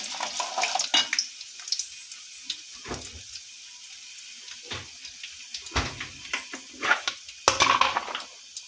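Dry red chillies crackle and sizzle in a hot pan, with scattered pops and bursts of frying noise over a steady low hiss, close by and fairly quiet.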